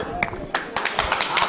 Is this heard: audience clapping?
yes